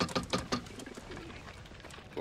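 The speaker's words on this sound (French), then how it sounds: "Ces pauvres pigeons sont même pas capables de faire le tour du pâté de maison." Pigeons coo in a few soft, rhythmic pulses at the start, then fade into quiet background ambience.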